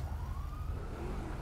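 A police car siren in GTA 5 wails steadily over a low engine and road rumble, sounding close and loud with no talking.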